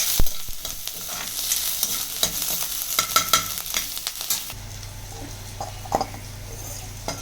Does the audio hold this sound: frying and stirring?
yes